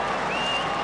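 Big stadium crowd at the Telstra Dome during an Australian rules football match, St Kilda against Melbourne, a steady loud wash of cheering and applause filling the whole moment.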